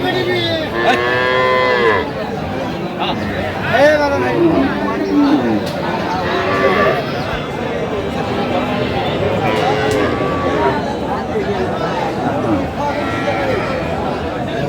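Cows and calves moo repeatedly, loud and close, over the constant hubbub of many people talking at a busy rural cattle market in Bangladesh.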